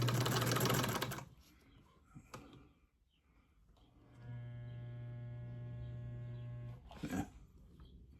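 Sewing machine running a back stitch: a close whirring motor hum with a mechanical rattle that runs in short bursts, stopping and restarting, with faint handling clicks between runs.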